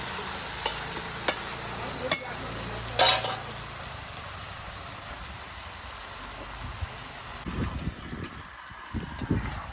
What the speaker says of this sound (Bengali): এবার আমি ভালো করে আলুর সঙ্গে মাংসটাও ভেজে নেব